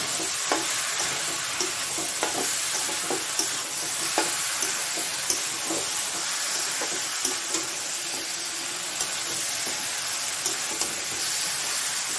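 Green jackfruit is stir-fried with spices in a pan, a continuous close sizzle and hiss with frequent scraping stirs, with no talking.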